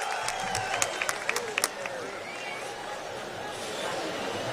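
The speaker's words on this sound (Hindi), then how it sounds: "जोरदार तालियों से आप उनका इस्तकबाल करें।" A crowd at a religious gathering greets a speaker. A few sharp, scattered claps come at first, then a murmuring, chattering crowd carries on at a low, steady level.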